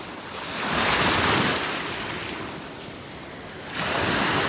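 Sea waves washing onto a beach at Jijel, Algeria, a loud steady surf roar with wind noise, swelling and easing in broad surges, no voices.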